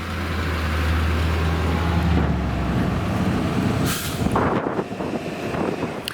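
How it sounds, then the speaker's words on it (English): A car is hauled out of the water by a heavy truck, its low engine drone fading out as a hissing burst of air brake and some clanking follow. "they finally got the car out of the water. There it goes."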